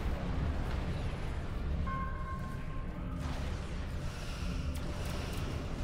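Photon torpedoes fire in a Star Trek Resurgence space battle, with the Bozeman-class heavy frigate USS Resolute in the fight. The blasts sound as dense, continuous rumbling bursts, loud and sustained, with faint tones drifting over them.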